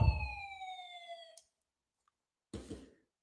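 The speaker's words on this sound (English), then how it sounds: "We're gonna sound the siren one more time" A siren wails in steady sustained tones over a low rumble for over a second, cuts off abruptly, then a short burst of noisy clatter follows after silence.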